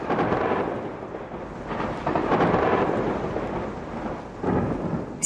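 Thunder rumbles in long, rolling waves with rain hissing beneath, a stormy mountain atmosphere with no voices.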